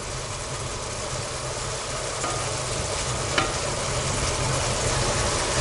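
Meat juices bubble and sizzle as they cook down in a pot, a loud, steady, even hiss throughout with one faint click, no talking.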